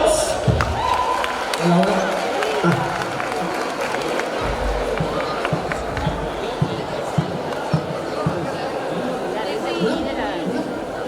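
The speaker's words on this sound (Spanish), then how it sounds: "¡Aplausos para ellos!" Audience applause for a school class act at a carnival event, dense clapping and crowd chatter filling the space continuously, with scattered thumps and shouts mixed in.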